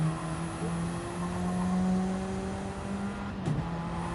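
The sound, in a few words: race car engine revving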